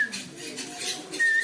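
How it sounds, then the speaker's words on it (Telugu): Parrots of many sizes, small to large, call inside an aviary at Ramoji Film City, Hyderabad, giving a steady run of bright, shrill chirps and whistles with no talk. "చిన్న చిలుక నుంచి పెద్ద చిలుక వరకు అన్నీ ఉన్నాయి ఇక్కడ."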